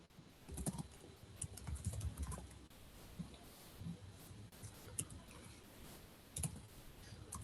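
Keys clatter on a computer keyboard as Linux terminal commands are typed in Ubuntu, a steady run of close, quick clicks with short pauses between bursts and no voice over them.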